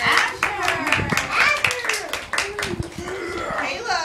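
Clapping at a kindergarten graduation, scattered hand claps in a loose rhythm, close and fairly loud, mixed with people talking and children's voices.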